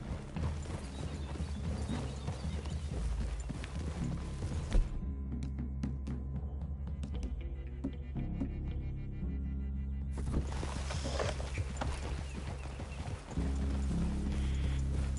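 Horses walking in the video game Red Dead Redemption II, hooves clip-clopping in a steady rhythm with an occasional whinny, fairly faint against a quiet outdoor game ambience.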